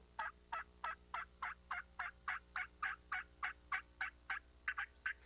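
A rapid series of about fifteen loud, evenly spaced gobbles from a wild turkey, strong and close, with no talking.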